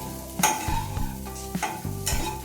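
Egg bhurji frying in a pan gives a continuous close sizzle, broken by a few sharp scrapes and clanks of a spatula stirring at uneven intervals.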